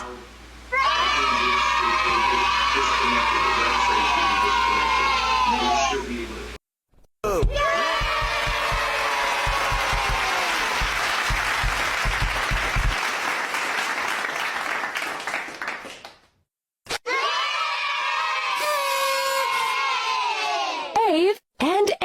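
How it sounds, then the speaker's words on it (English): Groups of children cheer and shout excitedly in several loud bursts, high voices yelling together with some clapping, separated by short silent gaps. "Kids cheering sound effect."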